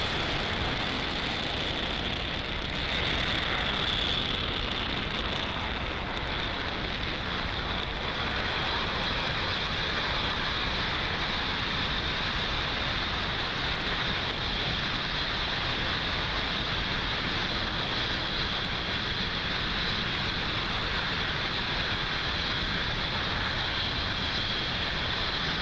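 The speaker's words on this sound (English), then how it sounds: "Falcon 9 has successfully lifted off from Pad 40 at Cape Canaveral" Falcon 9 rocket liftoff from Pad 40 at Cape Canaveral in the Spaceflight Simulator game, a continuous loud broadband engine roar that holds steady for the whole stretch without letting up.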